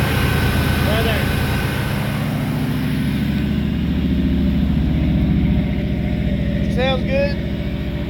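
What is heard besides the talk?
car engine idling after cold start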